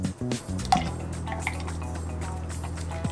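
Cream pours into a North Pole cocktail glass with soft liquid trickling and a few small clinks, quiet and close, with no voices.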